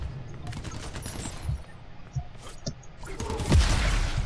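Gunfire bursts in the video game Crackdown 3, with scattered shots and rattling fire against a steady low rumble, building to a heavier blast near the end; a voice speaks briefly amid the shooting.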